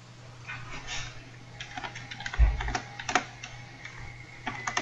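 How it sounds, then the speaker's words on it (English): Keys on a computer keyboard clatter in quick irregular bursts during a casual group card game, faint and close, with a few louder taps. "Who's typing?"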